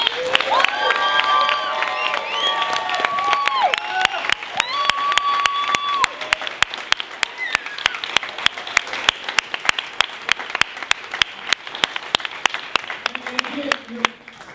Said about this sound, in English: Can we please give a warm welcome and round of applause to Mr.